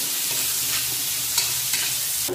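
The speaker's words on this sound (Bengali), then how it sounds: "লবণ, হলুদ দিয়ে সেদ্ধ মাখার জন্য পেঁয়াজটা লাল লাল করে ভেজে নেব।" Onions fry in oil until reddish, giving a loud, close, continuous sizzle with a few stirring scrapes and clicks and no voices.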